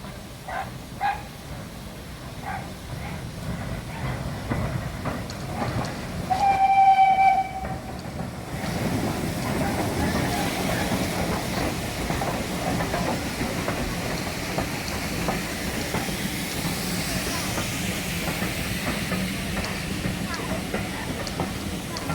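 At the Ramsbottom heritage railway, a steam train approaches backwards and sounds its horn in a short blast partway through, followed by a steady rumble and rolling noise of the train. Voices speak nearby at times.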